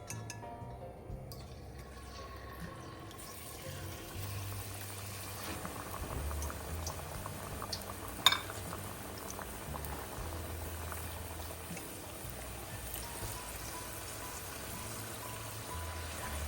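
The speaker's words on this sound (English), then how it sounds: "this is the oil that we use to fry our potato sticks" Potato wedges fry in hot oil with a dense, steady bubbling that persists throughout, close and moderately loud, with a single light clink about halfway through.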